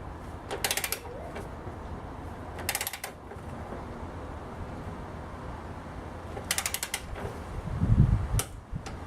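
Ratchet wrench clicking in short bursts while tightening the front strut on a 2010 Toyota Corolla, four clusters of sharp rapid clicks with quiet gaps and a low thump near the end.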